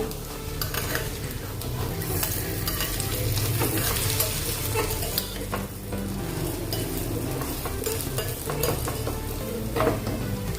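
A flipped ragi bun dosa fries in a pan, a close continuous sizzle with scattered scraping and clinks from a spatula, steady from start to finish.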